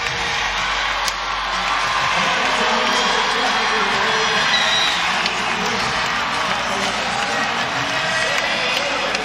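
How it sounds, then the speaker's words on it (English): A dense, roaring crowd cheers steadily at a women's volleyball regional final between Oregon and Louisville, loud and sustained throughout, with whoops and clapping blended into the arena noise. "Loud cheer from the crowd as she heads to the bench"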